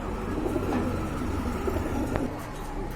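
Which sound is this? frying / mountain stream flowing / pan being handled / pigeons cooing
pigeons cooing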